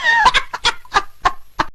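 A chicken clucks about six times in quick, uneven succession, loud and close.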